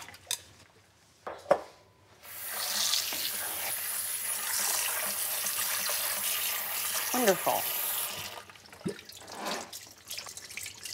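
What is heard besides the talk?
rinsing salted meat under cold running tap water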